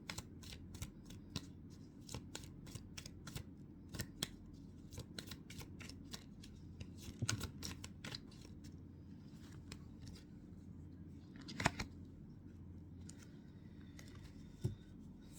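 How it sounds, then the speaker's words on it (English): A deck of cards being shuffled by hand with one card drawn out, a rapid run of crisp, close flicking snaps followed by sparser soft card slides, quiet and without voices. "I'll just get one last card out."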